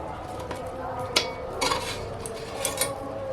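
Bhola fish curry poured out of a cooking pot in a rural village kitchen, with a few sharp metallic clinks and scrapes of pot and utensil against a steady low background.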